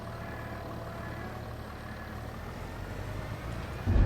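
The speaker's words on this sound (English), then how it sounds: "the tractor sound stays there all the time now" Tractor engine in the video game Farming Simulator 22, a steady low droning hum running continuously at moderate level with no talk over it.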